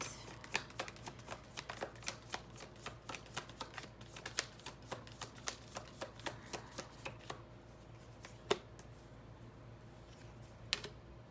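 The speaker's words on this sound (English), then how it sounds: "one more shuffle and then I'll get your reading out here" A deck of cards is riffled and shuffled repeatedly, a rapid series of soft crisp flutters and snaps, fairly quiet and close.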